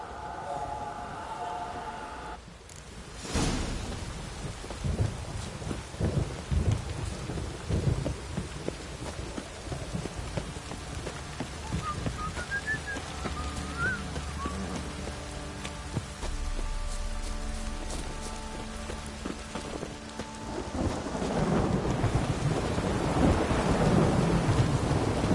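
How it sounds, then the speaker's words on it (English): Heavy downpour and rolling thunder in The Witcher 3, a sharp crack near the start followed by steady close rain that grows heavier toward the end. "This downpour's a bastard, it is."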